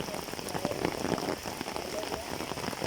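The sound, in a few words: moderate rain falling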